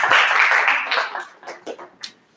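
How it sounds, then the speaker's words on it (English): Audience applause at an AI agents hackathon awards event, a dense burst of clapping that thins out over a couple of seconds into a few scattered claps before fading. "yeah, applause please"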